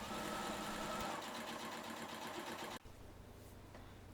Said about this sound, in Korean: 스커트 밑단 스티치 위치도 시접 끝에서 2mm 정도 안쪽으로 들어와 주면 적당합니다. 한 바퀴 삥 둘러서 봉제해 주세요.